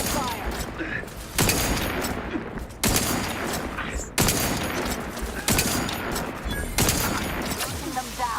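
Gunfire from The Outer Worlds 2 combat: dense, loud bursts of rapid automatic shots in several volleys, with sharp attacks every second or so and a continuous roar of fire between them.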